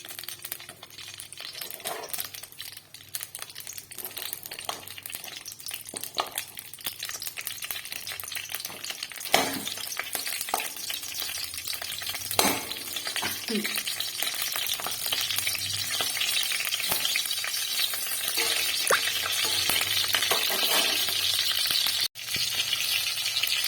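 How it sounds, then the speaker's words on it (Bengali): Chillies fry in oil in a wok after cauliflower, a long, steady sizzle punctuated by scraping and clinking of a spatula against the metal, growing slightly louder, with no one speaking. "আমি লঙ্কাটাকে ভেজে নেব।"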